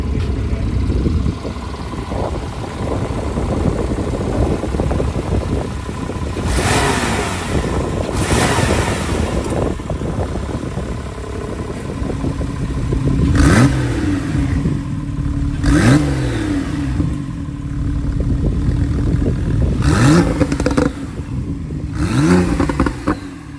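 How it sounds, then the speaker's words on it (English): A Porsche 911 Carrera engine, without sport exhaust, cold-starts and idles with a rough, rumbling roar, followed by several sharp throttle blips that rev up and drop back. "I wanted you guys to hear the cold start."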